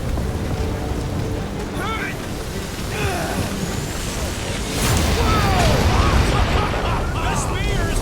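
Stormy weather in the Marvel's Guardians of the Galaxy video game: steady rain and wind noise fill the scene, swelling louder partway through, with game effects and voices mixed over it.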